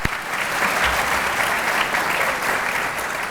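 Audience applause fills a ceremony hall at a medical school White Coat Ceremony, a steady dense wash of clapping from a large crowd that holds evenly throughout without speech.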